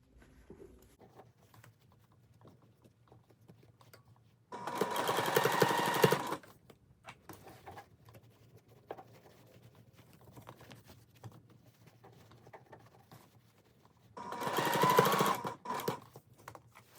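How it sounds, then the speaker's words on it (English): A sewing machine stitches gathers on a Fourth of July top, running slowly in two steady bursts of about two seconds and one second, separated by quiet handling sounds. "I like to go very slowly when I sew gathers in place"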